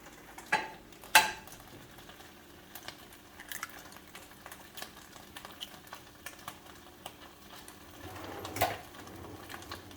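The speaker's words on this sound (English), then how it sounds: "we're going to scramble 2 eggs" Two eggs scrambled in an oil-sprayed pan, with a few sharp utensil scrapes and clicks against the pan over a quiet, low sizzle, close and sparse.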